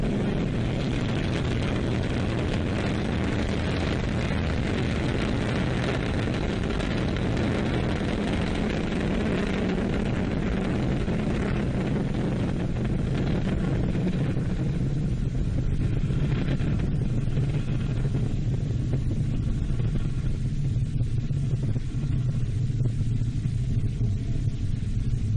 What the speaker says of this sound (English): Roar of our engines, a lot of fire, and with BepiColombo on board